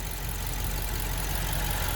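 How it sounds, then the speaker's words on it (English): A 2016 BMW X6 M idles with a steady, dense low rumble and constant hiss, unchanging in level throughout and heard up close without voices. "It's a real clean engine. It's super clean."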